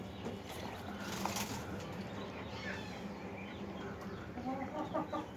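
A male quail calls among poultry in a backyard coop, short chirping notes rising over a constant murmur of clucking fowl, moderately close and fairly quiet.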